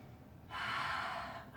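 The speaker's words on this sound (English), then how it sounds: "One more deep breath." A single deep inhale during a calm yoga session, a soft airy breath rising suddenly and held for about a second before easing off, close and quiet with no talking.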